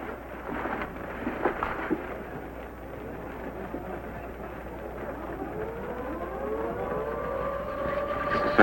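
A civil defense alert siren wails over a steady low rumble, its rising tone sweeping upward in a long, far-off howl.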